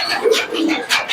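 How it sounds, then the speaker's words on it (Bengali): A Jorja pigeon at a pigeon shop coos close by in a few soft, low, throaty pulses, heard alone without any talking. "দেখুন জর্জা কবুতর, এর দাম কি রয়েছে?"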